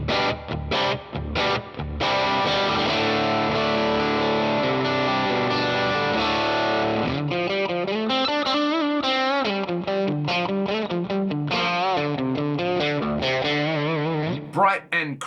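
An electric guitar with a P90 pickup played through an FM9 modeler with cab preamp and plate reverb, bright crunchy distorted chords ringing out with echo and sustain, loud and close throughout.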